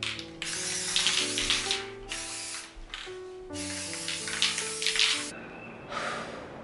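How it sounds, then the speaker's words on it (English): A spray paint can hisses in several long bursts as pink galaxy-colored paint is sprayed onto a bedroom ceiling, close and loud, with short pauses between sprays and a faint rattling hum in the background. "I could literally see like the spray paint just floating around my room right now."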